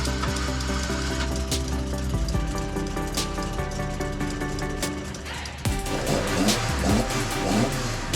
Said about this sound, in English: plugging the coil pack back in and starting the engine properly.